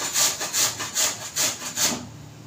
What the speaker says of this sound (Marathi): मग म्हणून आपल्याला ह्या प्रकारे किसून घ्यायचे।